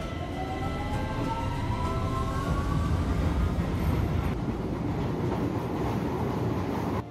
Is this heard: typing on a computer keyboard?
no